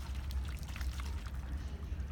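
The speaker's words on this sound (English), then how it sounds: "you create a twister in a bottle." Water swirls and gurgles between two bottles joined with a washer and electrical tape, making a twister-bottle vortex. Bubbly, trickling pouring sounds continue steadily, close up and fairly quiet.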